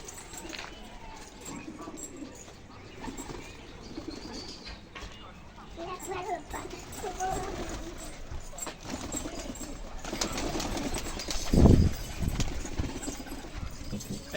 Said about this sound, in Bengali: এই যে মালবাই পায়রা রয়েছে